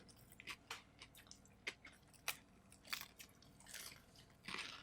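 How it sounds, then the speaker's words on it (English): Someone chews food right up against the microphone at a table: soft, irregular crunches and wet bites, faint and close, with no talking. "if we're chewing into the microphone"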